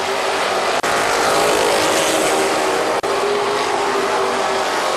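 Race cars roar past at KilKare Speedway, a dense, steady engine blare that stays loud for the whole stretch, with two sharp momentary cuts in the sound.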